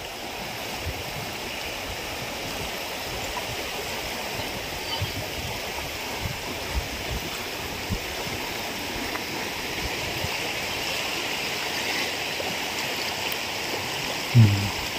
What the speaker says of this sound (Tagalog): Yan po ang ilog. Pwede rin po dito mag-swimming.